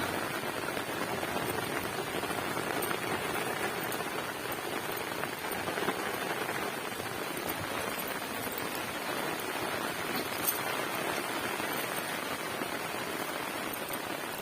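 Heavy rain falling during a cyclone, a dense, steady hiss of drops drumming on surfaces that stays constant and unbroken throughout, with no voices.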